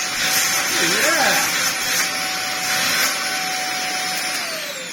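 A Dyson DC50 vacuum cleaner runs close by with a loud, steady motor whine and airy suction hiss, holding constant over a few seconds with a slight drop at the end.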